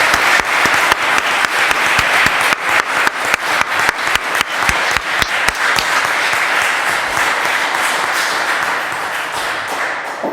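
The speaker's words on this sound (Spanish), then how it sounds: "Aplaudamos vuestro logro." Loud sustained applause from the audience at a swearing-in ceremony for new lawyers before the Supreme Court, dense clapping with sharp individual claps standing out, continuous for about ten seconds and fading slightly at the end.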